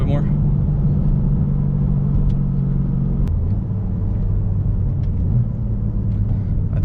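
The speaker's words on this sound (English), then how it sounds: "So I can definitely hear the burbles." A BMW M3 with a Bootmod GTS tune rumbles at low idle with steady exhaust burble and a few faint pops, close and loud throughout, with a person talking over it.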